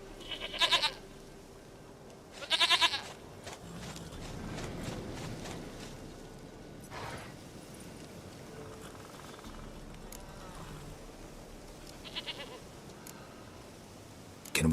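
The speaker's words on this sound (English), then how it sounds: "Goat of mine, dearest, sweetest goat." A goat gives two loud, shaky bleats close by, then fainter shuffling and movement follow, with another softer bleat later and a voice heard briefly.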